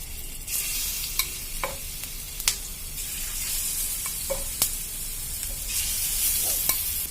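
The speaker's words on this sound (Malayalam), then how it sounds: "ഇനി അതൊന്ന് നമുക്ക് വറുത്തെടുക്കാം" Marinated chicken fries in coconut oil in a pan, giving a constant close sizzle broken by several sharp clicks and scrapes as the pieces are stirred and turned.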